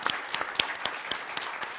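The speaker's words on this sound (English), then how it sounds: "ask the audience to do a round of applause to Asan just to say thank you." An audience at a nuclear energy forum plenary session gives a round of applause, a dense patter of many hands clapping at moderate volume with no talk over it.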